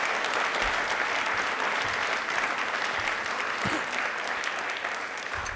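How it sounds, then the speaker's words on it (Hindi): Studio audience at a televised Rajasthani quiz show applauding the Vande Bharat train initiative, loud continuous clapping throughout with a slight taper near the end. "इस पहल के लिए तालियां दिल से जोरों से एक बार बजा दीजिए"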